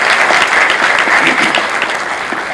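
Dense, steady applause from a seated audience at an economic forum, welcoming a speaker to the stage; loud, continuous clapping with no pauses for the full stretch.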